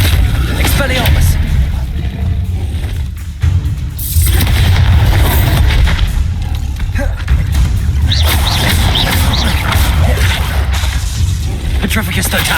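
The Expelliarmus spell goes off in Hogwarts Legacy as loud rumbling booms and crashing impacts during a busy magical fight, with a voice calling out spells over the noise.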